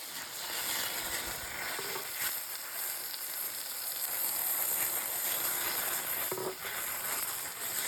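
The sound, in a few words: stirring sauces sizzling in a cooking pan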